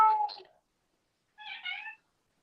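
A person's voice imitates a cat, giving two close, drawn-out meows separated by a short silence.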